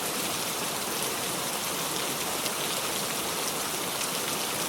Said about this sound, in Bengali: বাদল চমকাচ্ছে আর বৃষ্টি হচ্ছে